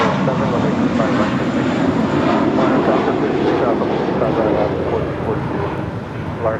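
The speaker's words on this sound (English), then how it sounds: "This is Volaris Flight 915 departing to Guadalajara on an A321." A Volaris Airbus A321 departing Los Angeles International for Guadalajara: a loud, steady jet-engine roar that holds close and strong throughout, easing slightly near the end.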